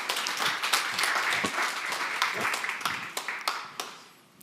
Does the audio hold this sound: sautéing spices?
no